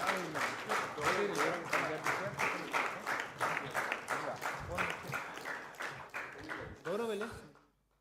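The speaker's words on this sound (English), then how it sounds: "I request everybody, a big round of applause." Audience clapping at a tech show in Mysuru, a round of applause that starts strong, carries on in a steady patter with voices mixed in, then tapers off and fades at the end.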